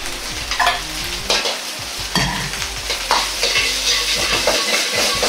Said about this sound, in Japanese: ご飯と卵と具が一つにまとまるように炒め合わせます